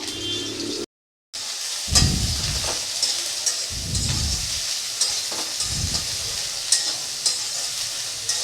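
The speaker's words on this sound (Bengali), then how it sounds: "তেলটা গরম হয়ে গেছে এখন সয়াবিনগুলো দিয়ে একটু ভেজে নেব" Soaked soybean chunks fry in hot oil with a continuous close sizzle. Several low scraping stirs recur under it, and a short silent gap comes near the start.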